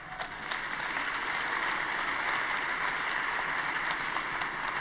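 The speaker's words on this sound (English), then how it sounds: "A big applause again." Congress audience at a PES party gathering breaks into sustained applause, a broad, even wash of many hands clapping that holds steady throughout, with no voices on top.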